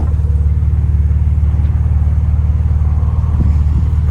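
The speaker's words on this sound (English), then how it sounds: "it has got the Lotus approved sports exhaust" A 2013 Lotus Evora fitted with the Lotus approved sports exhaust, idling and heard up close from outside the car: a loud, deep, steady burble with a fast, even pulse and no change in pace.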